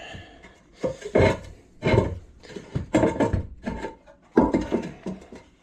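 Porcelain tank lid of a Kohler pull-rod toilet lifted from the front, giving several close, loud scraping and knocking ceramic sounds in irregular bursts with brief pauses between them.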